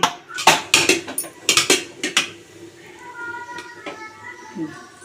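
Cooked rice is scraped from a vessel into a pot, giving a quick series of sharp metal clinks and spoon knocks, then quieter rustling, with someone talking over it.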